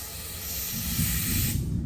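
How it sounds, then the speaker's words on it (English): Brake cleaner sprays through the module of a Graco GX-7 sprayer being cleaned after concrete lifting, a close, steady aerosol hiss that holds for nearly two seconds and then cuts off. "I'll just spray it out with brake cleaner again one last time."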